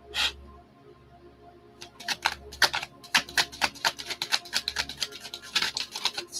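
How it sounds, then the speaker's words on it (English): Tarot cards are riffled and shuffled up close in quick repeated rustling bursts, a steady soft hum running underneath. "Final shuffle"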